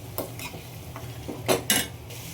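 Chicken biryani stirred in a pot with a utensil, giving a handful of scraping, clinking strokes at an uneven pace, close and fairly loud, with no one speaking.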